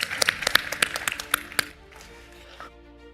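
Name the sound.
audience applause for conference panelists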